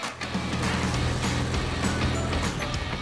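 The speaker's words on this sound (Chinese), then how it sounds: "高架桥上，星星骑着机车在车流中穿行。" Steady traffic roar on an elevated road in Chongqing, a continuous loud motor drone with passing vehicle whooshes as a motorcycle threads through the stream of cars.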